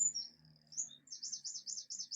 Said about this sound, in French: Écoute, t'as les oiseaux